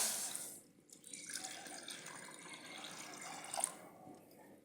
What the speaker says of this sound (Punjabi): ਹੁਣ ਆਪਾਂ ਪਾਣੀ ਪਾਵਾਂਗੇ